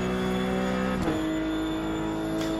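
Ruf CSpec race car in iRacing at Spa pulling hard at high revs, a steady loud engine drone with a brief shift dip about midway before the tone settles and climbs again.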